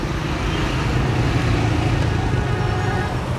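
Steady roadway noise from congested traffic on GT Road in Rawat near Islamabad, with cars, trucks and buses idling and creeping past close by, a continuous dense rumble.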